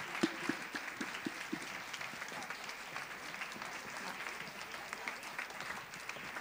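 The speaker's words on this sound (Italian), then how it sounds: "Vorrei sentirlo un po' più forte questo applauso," Audience applause at an evening event for International Women's Day fills the room as sustained, fairly distant clapping, with a few sharper claps standing out at the start.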